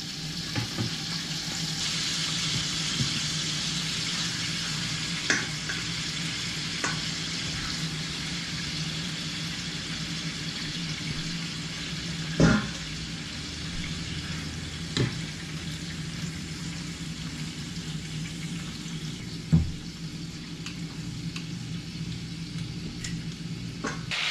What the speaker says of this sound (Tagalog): habang nagpiprito ako